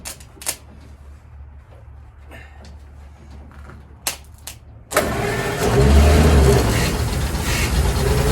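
A 1936 Ford flathead engine cranks and catches at about five seconds, settling into a loud, steady running roar, preceded by quiet clicks and clunks.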